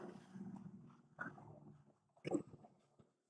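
A dog barks in a meeting room during a board meeting, giving a few rough, muffled barks with the two sharpest near the middle and end, fairly faint and heard alone without speech.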